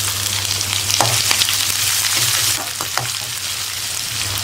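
Chopped onions go into a pan of hot oil with curry leaves and lentils, and a loud sizzle builds. Scraping stir strokes follow, and the frying settles to a slightly quieter hiss partway through.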